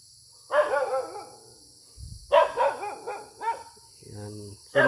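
A dog barks several times in short, excited bursts, fairly close, with a brief low thump between barks.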